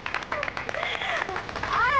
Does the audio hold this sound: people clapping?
yes